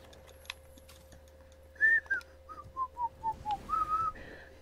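A whistle item blown in Monster Hunter World: Iceborne, a near, clear melodic whistled tune of about eight short rising and falling notes played alone after a single faint tap.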